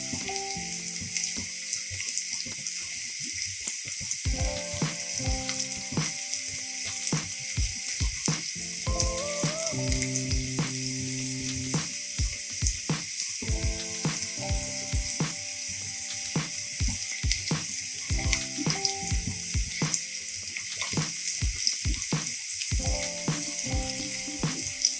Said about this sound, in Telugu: ఇలా గోల్డెన్ బ్రౌన్ కలర్లో వచ్చే వరకు ఫ్రై చేసుకోవాలి